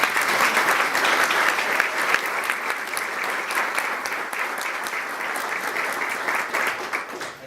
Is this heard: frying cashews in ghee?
no